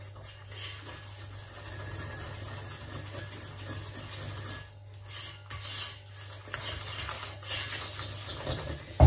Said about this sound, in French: je verse, je mélange avec la cuillère.